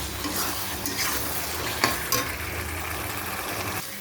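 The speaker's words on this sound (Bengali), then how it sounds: "হলুদও দিলাম, ভালো করে কষিয়ে নেবো মশলাটা।" Spice paste with turmeric is sautéed in a pan for a fish curry, a steady close sizzle with a couple of sharp clinks of a spatula against the pan, without talk.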